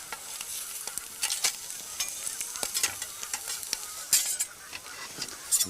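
Food sears lightly in a hot pan in a Swedish cooking setting, sizzling softly with a run of sharp clicks and scrapes from stirring or turning scattered throughout.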